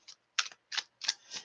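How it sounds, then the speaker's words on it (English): Tarot cards being shuffled by hand in four or five short crisp riffling bursts separated by brief pauses, close and fairly quiet. "Still shuffling. Every day I'm shuffling."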